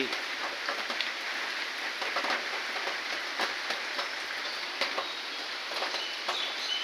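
Light morning rain falls steadily in a calm, cool setting with a soft breeze, a fine hiss of drops with scattered sharper taps on surfaces throughout, and no voices.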